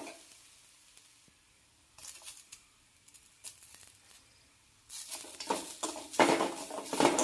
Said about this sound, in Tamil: தேங்காய் நல்லா பொன்னிறமாக நல்லா பொரிஞ்சு வர்ற வரைக்கும் ஸ்லோ ஃப்ளேம்லேயே இப்படி விடாமல் வதக்கி விட்டுக்கிட்டே இருங்க.